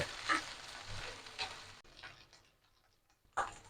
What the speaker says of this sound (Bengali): এবার আমি ভুড়িটা ভালো করে ভেজে নেব বেশ খানিকটা ধরে ভাজব